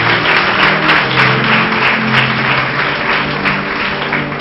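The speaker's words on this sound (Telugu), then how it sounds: "చప్పట్లు కొట్టండి." Audience applause from a crowd at a spoken address or sermon, a dense steady wash of clapping that stays loud and close for the whole stretch with no talk over it.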